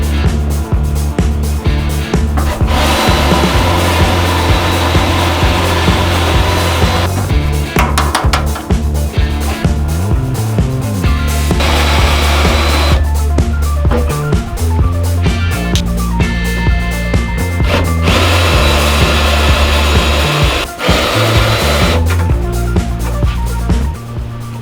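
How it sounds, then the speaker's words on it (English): Drilling out the rivets on a vintage Porsche 911 body being converted from a race car to a street car, with dense, loud metallic grinding and whirring running almost continuously, broken by short pauses and clanks. "Now that everything's labeled, it's time to drill the rivets out."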